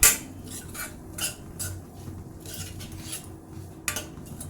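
Jaggery and coconut stuffing stirred and fried in a pan for jackfruit kadubu, with a metal spoon clinking and scraping against the pan in irregular knocks, close and moderately quiet.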